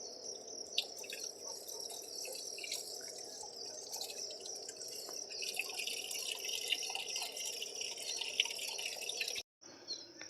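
Water trickling from a tap on a hillside, soft steady dripping and splashing under a constant shrill chorus of crickets, faint and distant, cutting off abruptly near the end.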